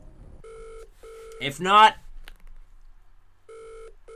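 Phone-a-friend call in a Millionaire quiz video game: steady electronic ringing tones repeat in short bursts, stop while a voice speaks briefly, then ringing resumes, clean and close.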